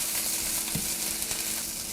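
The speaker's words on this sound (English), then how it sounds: "And you'll want to stir this pretty frequently during these few minutes." Tomato paste fries in a pan with a close, steady sizzle while a spoon stirs it, giving one louder scrape partway through.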